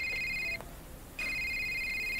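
Cell phone ringing in the game A Short Hike, two bright electronic ring bursts separated by a short pause, clear and close.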